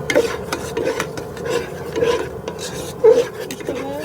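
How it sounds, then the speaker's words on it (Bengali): A spice paste of blended ginger and garlic in oil is stirred and scraped in a pan, making repeated rasping strokes with a few louder scrapes, close and clear, with no talking. "মশলাটা আমি নাড়াই নেব।"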